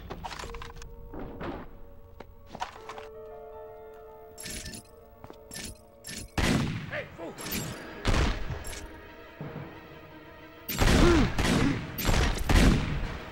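Gunfire in the 24 Heures Chrono video game: scattered single pistol shots and clanks, then heavy rapid bursts of fire in two loud clusters, with no speech.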